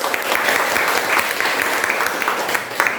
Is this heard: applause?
yes